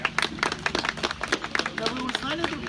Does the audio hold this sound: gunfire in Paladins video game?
no